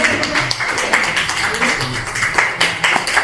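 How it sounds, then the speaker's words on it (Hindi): Clapping from an audience at a retirement farewell for a chief pharmacist, a dense, steady patter of many hands close by with a few sharper bursts, continuing without pause. "जोरदार ताली बजाओ।"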